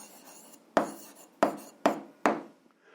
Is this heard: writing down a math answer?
yes